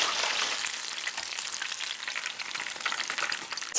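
Chicken deep-frying in hot oil: a dense, crackling sizzle with constant popping and spattering, close and steady throughout, with no voices.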